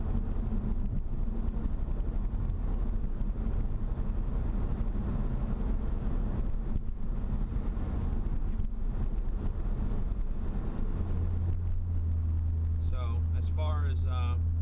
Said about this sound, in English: Interior's still really quiet. I mean, you hear the road noise over you hear the exhaust.